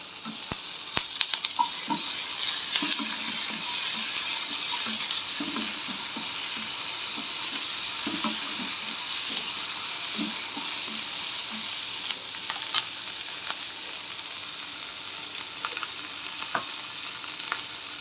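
Chopped ginger and tomato sauté in a pan for paneer gravy, sending out a continuous hiss of frying broken by sharp clicks and scrapes from stirring.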